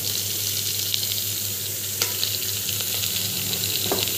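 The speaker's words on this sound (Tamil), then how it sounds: "பூண்டு வந்து ஆட் பண்ணிடலாம். ஆட் பண்ணி நல்லா வந்து வதக்கிட்டுக்கோங்க." Garlic and green chilli sautéing in a pan, an even, dense sizzle with a low steady hum beneath and a few sharp clicks of a spoon, close and unbroken.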